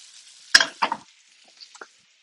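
Green beans are tossed in a hot pan, giving a sharp clattering toss followed by a short sizzling hiss and a few fainter stirring scrapes, close and with no one talking.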